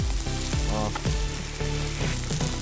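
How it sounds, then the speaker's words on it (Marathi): Tomato being mixed into a powdered spice masala for a rustic chicken curry, frying with a loud, dense sizzle in the pan, broken by repeated scraping stir strokes, with no talking over it. "अख्खा वाटी टमॅटो आपण घेतलेला आहे मिक्स करून घेऊ पावडर मसाल्यामध्ये"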